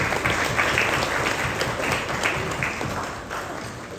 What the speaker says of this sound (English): Huge round of applause for them as well.